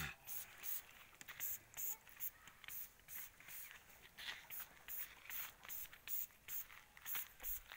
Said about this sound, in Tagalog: Talagang kunti lang yung ini-spray ko mga katots